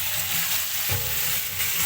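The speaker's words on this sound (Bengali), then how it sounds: "আলুগুলো ভেজে নিচ্ছি এখানে" Potatoes fry in a pan, giving a close, continuous sizzle and crackle, with a brief stirring scrape partway through and no voices.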